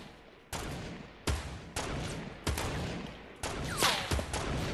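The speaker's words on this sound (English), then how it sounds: "someone else is shooting at us" Video game gunfire: five or six sharp shots spaced about a second apart, distant-sounding and fairly faint over a steady background hiss, with no talk.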